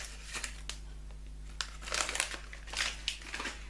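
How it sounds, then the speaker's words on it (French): Paper crinkles and rustles in bursts of crisp crackling while unpacking Funko Pop figures, close by, with a steady low hum underneath and no talking. "désolée pour le bruit du papier"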